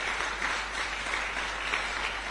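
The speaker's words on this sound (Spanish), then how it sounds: "Dar un aplauso a Cristo." A church congregation clapping together, a dense, steady wash of applause with no clear pauses, moderately loud and filling the room.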